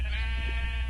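A single Minecraft sheep gives a brief nasal bleat that fills the short moment over a steady low background hum.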